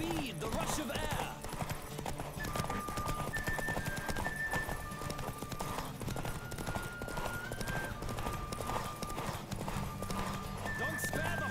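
Fast, rhythmic hoofbeats of a horse galloping in The Witcher 3: Wild Hunt, steady and continuous beneath game music tones and character speech.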